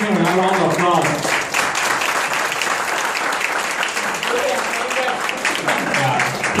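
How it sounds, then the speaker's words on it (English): Applause from an audience at a business seminar, steady clapping that carries throughout, with a voice talking over it near the start and briefly again toward the end. "please give him a round of applause"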